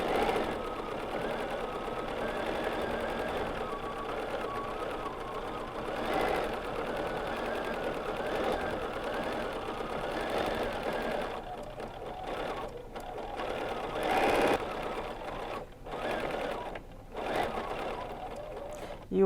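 A BERNINA sewing machine free-motion quilting a placemat, its needle running in a steady, fast close-up whir that pauses and restarts in short bursts toward the end, with a voice talking over it.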